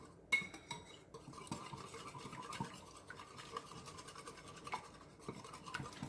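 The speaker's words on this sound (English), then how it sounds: "just whisk it all together till it's smooth" A whisk scrapes and clinks quickly against a bowl while beating egg batter for fried pickles, a busy, light metallic rattle heard close and alone.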